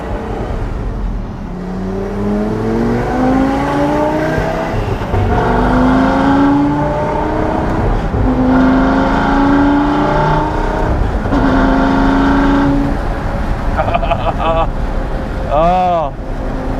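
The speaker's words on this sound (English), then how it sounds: "That Klein exhaust on this car is so good." A supercar's Klein exhaust revs repeatedly, pitch climbing with each pull as the engine accelerates, loud and close, followed by a few sharp pops.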